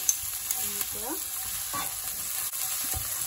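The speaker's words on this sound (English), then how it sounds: "Now we're going to add the garlic. We keep stirring." Garlic and ginger stirred in a hot wok for sweet and sour tofu, a faint steady sizzle with light scraping of the spatula.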